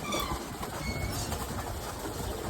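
Pigeons coo steadily at close range in a loft of young birds, with soft, low calls overlapping through a few seconds of background rumble.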